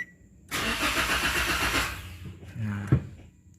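A manual-transmission fuel-injected car's starter cranks the engine in one long whirring burst that churns steadily, then stops, followed by a few softer clicks and a short buzzing hum, close and loud.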